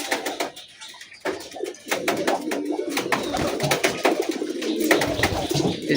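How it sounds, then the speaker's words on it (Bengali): A male red-eyed muffed pigeon coos in a loft, its low repeated coos close and clear over a background of other bird calls and clatter, with no talking. "এই কবুতরটা যে ডাকতেছে,"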